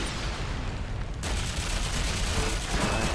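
Dense, continuous rattling gunfire from the video game Ghost Recon Online, loud and unbroken, with the sound thickening sharply about a third of the way through.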